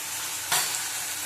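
Chopped tomato and a spoonful of Kashmiri chili powder sizzling in hot oil while being stirred for a potol curry, a steady soft frying hiss with a sharp scraping stir midway.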